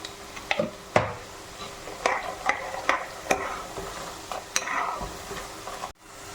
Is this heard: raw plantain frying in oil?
yes